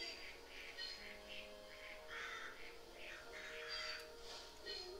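Repeated harsh caws from birds in New Pokémon Snap, a string of faint squawking calls spaced irregularly over a low background hum.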